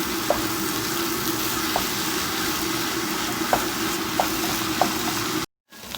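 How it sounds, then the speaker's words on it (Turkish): Lentil soup ingredients with cumin sautéing in a pot, a steady close frying sizzle with a few light tapping clicks, no talking, and a sudden cut to silence near the end. "isteğe bağlı olarak kimyon koyup 5 dakika kadar kavuruyoruz malzemeyi"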